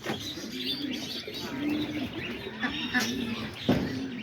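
Roller pigeons in a loft on a rainy day, with soft cooing and chirping running steadily under nearby talk and light background noise.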